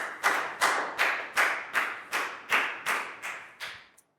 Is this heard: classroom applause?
yes